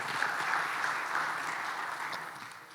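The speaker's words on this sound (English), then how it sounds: "A round of applause for him too." Summit attendees applaud Ghana's Minister for Business Development at the CEO Summit opening, a steady wash of clapping that fades slightly toward the end.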